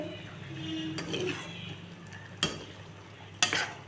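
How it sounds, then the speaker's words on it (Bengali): Fish curry made with ridge gourd, eggplant, tomato and carrot simmers in a pot, with soft bubbling and a faint sizzle under stirring and scraping. Sharp metallic clinks of a utensil against the pot come at intervals. "মায়ের জন্য একটু মাছের ঝোল চাপিয়েছি।"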